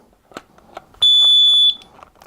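A single loud, piercing beep from a newly installed smoke detector powering up lasts under a second, preceded and followed by faint handling clicks.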